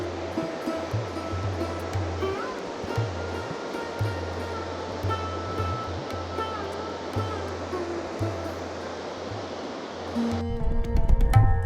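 The Sharin River rushes through a canyon near Almaty, Kazakhstan, a steady, loud wash of flowing water with faint low hums beneath and a louder, rougher swell near the end.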